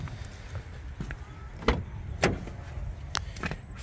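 Driver's door of a 2018 Nissan Sentra SV opening, a couple of soft latch clicks and thuds standing out against a low steady background rumble, with no talking.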